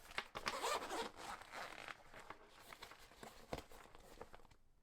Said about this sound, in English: this pouch can be extended thicker by unzipping this zipper around the pouch